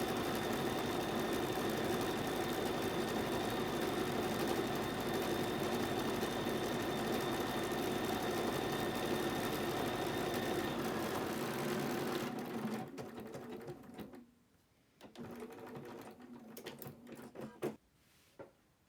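A sewing machine stitches steadily at close range for about twelve seconds, working triple and single stitch lines on a pyramid project, then stops abruptly, leaving a few faint clicks and handling noises.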